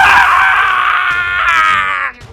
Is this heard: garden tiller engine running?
no